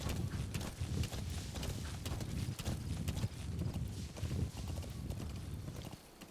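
Horse hooves clip-clopping steadily at a walk in the Metal Gear Solid V: The Phantom Pain video game, a continuous close rhythm over a busy game soundscape.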